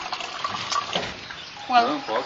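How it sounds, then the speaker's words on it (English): Water running from a tap, a steady splashing hiss with a brief louder gush near the end, while a voice speaks over it. "Yes, it's water."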